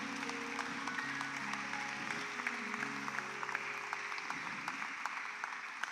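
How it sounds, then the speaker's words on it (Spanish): A church congregation at Templo el Salvador claps for the Lord in a sustained, fairly quiet round of applause, with sustained musical tones from instruments playing underneath. "si vas a aplaudir al Señor, apláudele bien"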